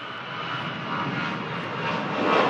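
Large airliner, about 80 metres in wingspan, taxiing at an airport, its engines a steady broad roar from some distance that slowly grows louder.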